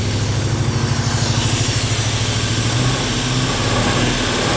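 A 1970 Dodge Dart with a swapped 6.4 Hemi V8 runs through its exhaust, a loud, close, continuous rumble with a fast steady pulse and a slight rise in revs.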